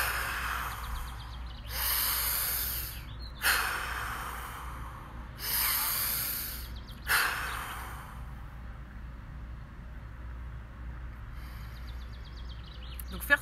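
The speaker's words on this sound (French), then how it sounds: "Vous soufflez très fort par la bouche, 3 fois, pour faire la détente en 3 points" Forceful breathing exercise: three hard exhalations through the mouth, each a loud, breathy rush of air lasting about a second, evenly spaced, followed by quiet with faint birdsong outdoors in the sun.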